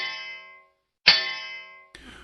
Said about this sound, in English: That is the sound of two swords hitting each other.